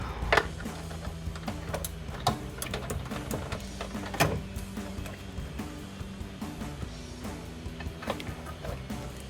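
A ratchet wrench clicks in rapid, steady ticking runs while loosening a bolt on the steel bed rail support bracket of a Jeep Gladiator JT, close up, with occasional metallic knocks.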